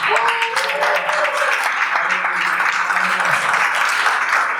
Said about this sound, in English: Athletes, guys, let's clap it out